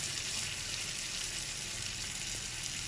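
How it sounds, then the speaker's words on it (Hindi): Tomatoes frying in a pan for a raita tadka, giving a continuous soft hissing sizzle, even and unbroken, close but quiet, with no speech. "1 मिनट हो चुका है, हमारे टमाटर भी फ्राई हो गए"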